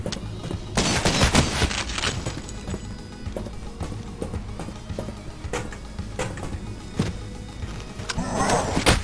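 Gunfire in the horror shooter game Cultic, with sharp separate shots and short bursts cracking irregularly over a low rumbling backdrop, fairly loud and with no voice over it.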